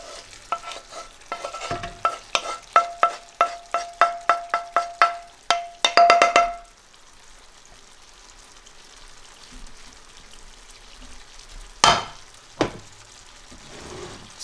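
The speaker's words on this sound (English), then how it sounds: "So this is the potato tarka going in." A pan of potato tarka hits cooked chickpeas with a burst of sizzling, overlapping a rapid series of sharp spoon taps and clanks against the pot, then quiet stirring with two louder knocks later.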